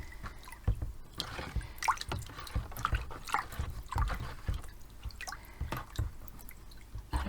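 Paper pulp sloshes and drips as it is agitated by hand in a water vat, with wet squishing and irregular splashy bursts throughout, close and moderately loud.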